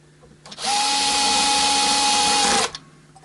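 A power drill on its lowest torque setting drives the neck screws of a super strat electric guitar, whining loudly and steadily for about two seconds close by before cutting off abruptly, with no talking.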